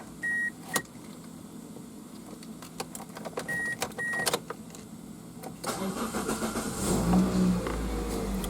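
Pontiac Vibe GT 2ZZ-GE engine idling after a start, with a steady low rumble under scattered clicks and a brief electric whir, the engine note growing fuller toward the end.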